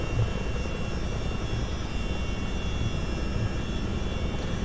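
Boeing CH-47D Chinook twin-rotor helicopter in a flight simulator game, a steady loud engine and rotor roar with a constant whine running evenly throughout, no voices.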